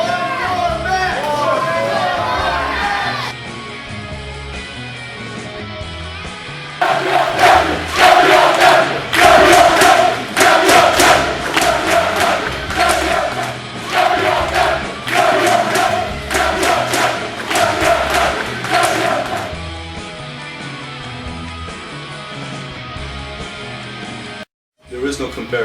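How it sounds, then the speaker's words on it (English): A sold-out, standing-room-only wrestling crowd in Brooklyn, New York roars and chants on its feet, loud rhythmic cheering swelling in waves beneath an announcer talking over it. "These fans are all on their feet. Sold out standing room only crowd here in Brooklyn, New York."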